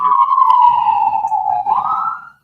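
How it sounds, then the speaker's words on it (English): A loud wailing siren sweeps slowly down in pitch and then rises again before stopping, heard close and alone. "I'm muting that. I don't want to hear sirens."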